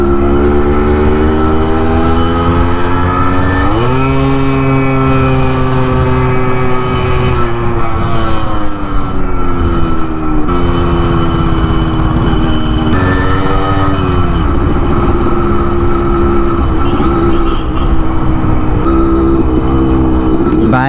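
Yamaha RX 100 motorcycle engine labouring on a road near Deomali, Arunachal Pradesh: a loud, close, continuous drone whose pitch sags and climbs repeatedly as the bike struggles to pull.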